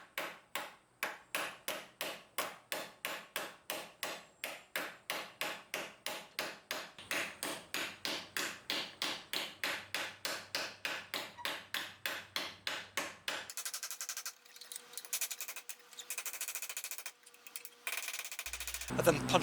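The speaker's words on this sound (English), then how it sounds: "I used the small side of a hammer to rough out the shape" Small hammer face striking a metal armor gauntlet knuckle plate in a rapid, even series of sharp metallic blows, dozens in a row, followed by quieter irregular taps and handling noise.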